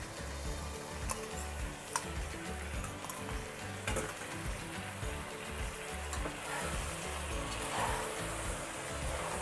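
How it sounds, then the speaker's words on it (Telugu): Cup of curd being stirred into vegetables in a pot for Hyderabad-style vegetable dum biryani, with continuous sizzling, wet churning and scattered light ticks of a spoon against the pot throughout. "పెరుగు వేసి ఒకసారి కలుపుదాము."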